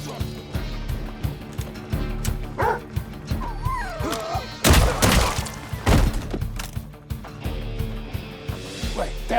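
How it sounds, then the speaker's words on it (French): A dog barks in short repeated bursts amid a busy action-film scene, with loud thuds and impacts midway and music or effects running underneath. "Ouais, t'es un bon chien."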